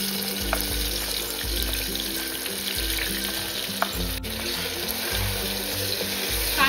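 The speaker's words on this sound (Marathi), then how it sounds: "कांदा टोमॅटो ना तेलावरती अगदी छान असं परतून घ्यायचं आहे" Chopped onion and tomato fry in hot oil with a continuous loud sizzle and crackle, joined by intermittent low thumps and stirring sounds throughout, with no voices.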